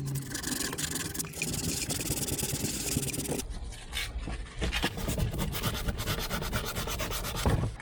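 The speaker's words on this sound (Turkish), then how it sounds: "Bir süre beklettikten sonra zımparalama işlemine kaldığımız yerden devam ediyoruz." Continuous gritty sanding scrape on a rusty metal pedal, close and steady, with rapid back-and-forth abrasive strokes that briefly shift in texture partway through.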